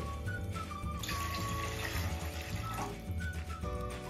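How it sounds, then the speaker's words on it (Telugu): Water pours steadily into a pan on the stove for making undralu, a continuous close splashing stream with a few clinks, with no talk over it. "ఒక గ్లాసు రవ్వకి 3 గ్లాసుల వరకు నేను వాటర్ పోస్తున్నానండి"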